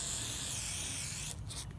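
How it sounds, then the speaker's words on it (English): WD-40 sprays from an aerosol can onto a foggy car headlight, a loud close continuous hiss lasting over a second before cutting off, followed by a couple of faint short bursts. "I heard you can take some WD-40 and clear up your foggy headlights. So let's spray a little bit on here."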